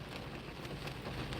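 Steady rain falling, a dense, even hiss of drops pattering on a surface, moderately loud and unbroken, with no voices.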